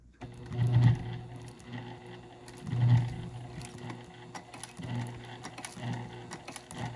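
Sewing machine stitching thick vinyl near a D-ring strap connector, its motor whirring in a steady drone with two stronger bursts of stitching where it strains through the dense layers.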